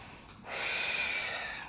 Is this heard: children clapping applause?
no